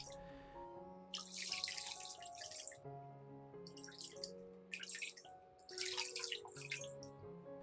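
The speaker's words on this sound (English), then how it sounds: "Use clean, chemical-free water and rinse gently to avoid further damaging the remaining roots." Clean water trickling and splashing over an orchid during a gentle rinse, with intermittent bursts of running flow and dripping against faint tonal background music.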